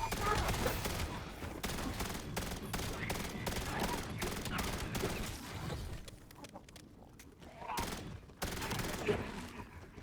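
Rapid gunfire hits zombies in the Black Ops 7 video game, with dense bursts of shots followed by a few spaced single blasts, loud and close over a faint murmur.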